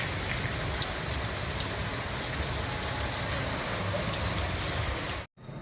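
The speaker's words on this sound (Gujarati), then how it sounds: "જામખંભાળિયામાં વીજળીના કડાકા ભડાકા સાથે મેઘરાજાનું દે ધનાધન આગમન થયું હતું" Heavy monsoon rain pours down in Jamkhambhaliya as a dense, steady roar of hissing rainfall that stays even throughout, then cuts off briefly near the end.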